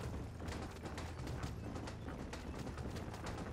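Horse hooves clip-clop in a steady rhythmic gait across a road in the Wild West video game Red Dead Redemption, with faint mechanical rattles of tack or a cart, fairly quiet and without speech.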